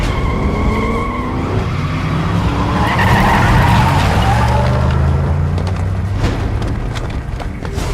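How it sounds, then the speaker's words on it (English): Tires squeal as a vehicle skids hard through a U-turn in the video game Metal Gear Rising, a loud, sustained screech over engine rumble with a dull boom near the end. "Leopard 1, U-turn. Turning back."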